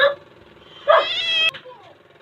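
A cat meows: a short cry at the start, then a louder, drawn-out meow with a faint trailing mew after it, close by.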